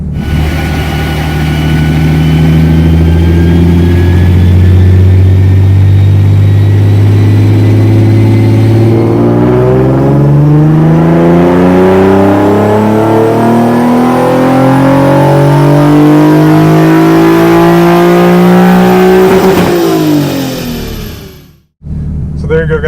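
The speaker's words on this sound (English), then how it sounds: "here's a clip of my dyno runs there" A Nissan 370Z with a Fast Intentions exhaust and test pipes on a dyno, the engine loud and close as it climbs steadily from a low drone to a high-rpm wail, then cuts off abruptly and settles.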